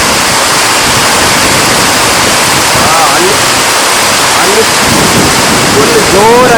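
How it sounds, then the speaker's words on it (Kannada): Heavy rain pours down with strong gusting wind, a loud steady broadband roar that fills the whole stretch, with faint voice-like tones rising through it near the end. "ಫುಲ್ ಜೋರಾಗಿ ಮಳೆ ಬರ್ತುಂಟು."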